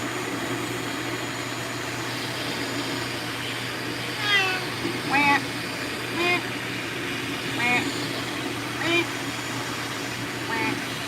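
A Ragdoll cat meows several times, short wavering calls spaced a second or so apart over a steady low hum, close by and moderately loud.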